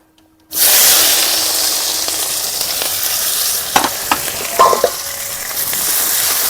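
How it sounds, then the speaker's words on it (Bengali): Sliced onions and green chillies with black cumin seeds hit hot oil in a pan, bursting into a loud steady sizzle with a few scraping stirs partway through. "এটা ভালো করে একটু তেলে চেড়ে ভেজে নিতে হবে।"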